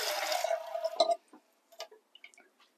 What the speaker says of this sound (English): I'm going to put just a little bit of water in these